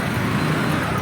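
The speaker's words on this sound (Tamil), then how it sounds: "வண்டி ஒன்று சிவப்பு வண்டி போகுது பாருங்கள்" Red vehicle passing on a road near a temple, a short steady rumble of traffic with engine hum, fairly close and continuous.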